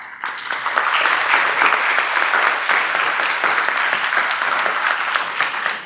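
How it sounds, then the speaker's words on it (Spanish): Students in a lecture audience applaud themselves after a talk, producing a dense, even burst of clapping that swells quickly and holds at a steady, fairly loud level for several seconds before tapering at the end. "Y les pido un aplauso para ustedes mismos."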